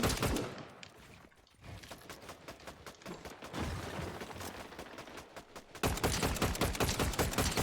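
Video game gunfire from a sniper in a multiplayer match, heard as rapid bursts of sharp shots with brief lulls, then a loud, dense volley of shots near the end, with no talking.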